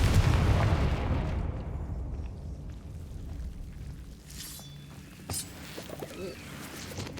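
A Confringo fire spell explodes in the game Hogwarts Legacy with a deep booming blast that swells and rumbles away over a few seconds, followed by faint scattered crackles.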